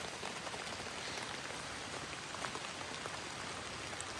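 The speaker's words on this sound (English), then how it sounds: "It's raining pretty hard now." Heavy rain drums steadily on a small hiking shelter, a dense, continuous patter of close drops with no voices.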